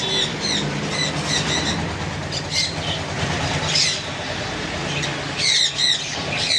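Conure parrots, including sun, pineapple and blue conures, squawk repeatedly in sharp bursts at a bird sale, over a steady, noisy background rumble.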